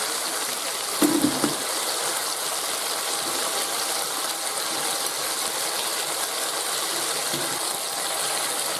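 A chopping machine whirs continuously as it chops okra, a dense, even mechanical rush with a short clunk near the start and a faint knock later, close and loud, with no talking.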